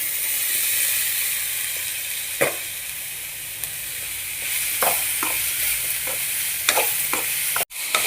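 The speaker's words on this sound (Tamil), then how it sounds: "நல்லா மிக்ஸ் பண்ணிட்டேன் பாருங்கள்" Onion masala fries in a pan with a steady loud sizzle and hiss, with occasional scraping knocks from stirring and a sharp clack near the end.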